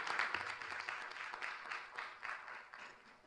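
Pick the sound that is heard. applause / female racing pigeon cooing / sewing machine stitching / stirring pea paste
applause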